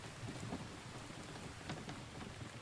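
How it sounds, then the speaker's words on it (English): Heavy rain in the survival video game The Infected, a dense, steady downpour with distant rumbling, no voices. "Oh, wow, big rain."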